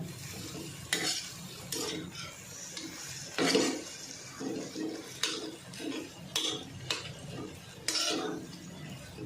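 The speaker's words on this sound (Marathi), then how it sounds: "ही आता अशी परतून घ्यायची गॅस कमी करायचा आणि परत परतत राहायचं" Fenugreek leaves and potatoes are stir-fried in a pan over low heat, with a steady sizzle under regular scraping strokes of a spatula every second or so.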